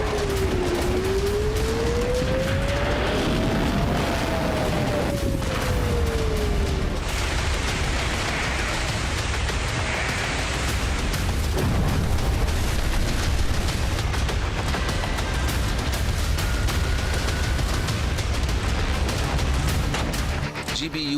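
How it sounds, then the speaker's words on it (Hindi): Bunker buster bomb explosions, a dense roaring barrage of blasts and rumbling detonations with a descending whistle early on, loud and sustained, with some voices underneath. "bunker buster bomb,"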